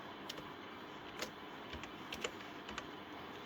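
Quiet keystrokes tapping irregularly on a computer keyboard as a name is typed, soft clicks scattered over a low steady background hiss.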